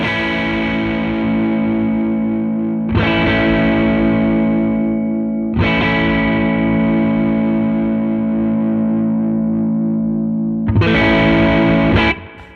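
Electric guitar played through a dual overdrive pedal, three or four distorted chords struck and left to ring and decay, loud and alone.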